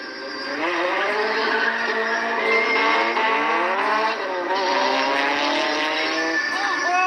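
Dodge Viper race car skidding in a crash, a sustained engine whine and tire squeal lasting several seconds, loud with no pause.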